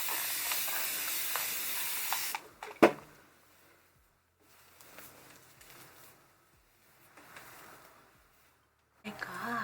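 Short hissing bursts of a spray bottle, a few quick spritzes spaced apart with quiet gaps, close by, along with some faint rustling.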